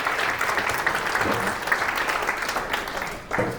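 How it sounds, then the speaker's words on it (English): Sustained, loud applause from a crowd at an ISKCON Tulabharam festival in Naperville fills the whole stretch with dense, even clapping. "Very loud and wonderful round of applause."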